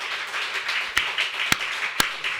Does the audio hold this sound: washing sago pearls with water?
no